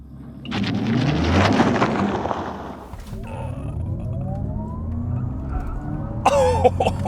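A 2022 Audi e-tron RS GT electric car accelerates hard from a launch, its rising whine and rushing noise building steadily, with a brief clunk as the two-speed transmission shifts into second gear partway through.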